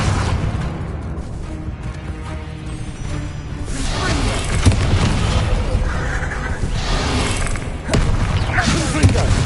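Repeated explosions from the Confringo spell in Hogwarts Legacy, heavy booming thuds and bursts arriving one after another amid continuous combat clamor, loud and near.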